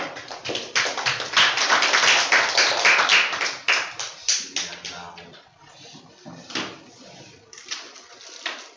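Applause from a classroom audience at a mathematics micro-teaching session, a dense burst of clapping that thins into scattered, uneven claps and fades toward the end.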